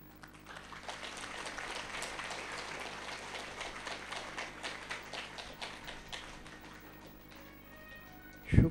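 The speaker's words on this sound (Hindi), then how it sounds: "शुक्रिया आपका ताली बजाने के लिए, शुक्रिया।" An audience at a spiritual gathering claps steadily at a distance, a continuous patter of many hands that slowly fades, ending with a louder close thump.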